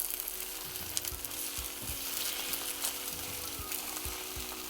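Egg sizzling steadily as it is scrambled in an Instant Pot for fried rice, a soft continuous fry with periodic scrapes and pushes of a utensil against the pot, no talking.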